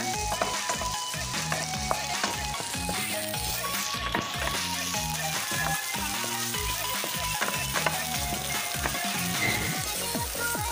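Onions frying in a pan for Filipino-style ginisang spaghetti, giving a dense, continuous crackling sizzle with rapid pops throughout and no talking.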